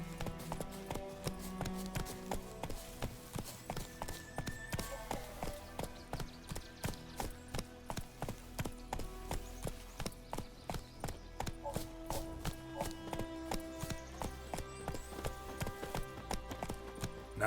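Roach, a horse in The Witcher 3, gallops in a steady drumming rhythm of hoofbeats that runs the whole way, close and fairly loud, over an orchestral music bed.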